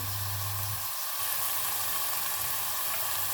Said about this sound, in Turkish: bu şekilde kavurmaya devam edelim